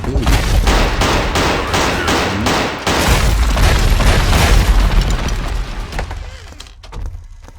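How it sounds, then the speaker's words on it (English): Rapid volleys of gunfire and booming shots in a horror video game, loud and dense through most of the moment before fading near the end, with a voice speaking over the shooting. "I shot him 7 times"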